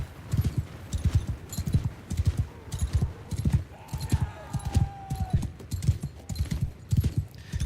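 Cavalry horses galloping in Mount & Blade II: Bannerlord, a sustained rumble of many pounding hooves in quick irregular beats, joined midway by a brief faint whinny, loud and continuous without talk.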